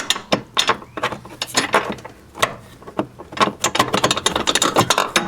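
A ratchet wrench removes the rear transmission bracket bolts on a vehicle fitted with a polyurethane rear transmission mount, giving loud, rapid clicking bursts in quick repeated strokes, up close.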